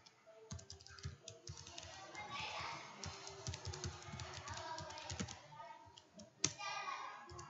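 Someone types quickly and steadily on a computer keyboard while writing a Selenium script, a close, continuous run of clicking keystrokes with a sharper tap near the end.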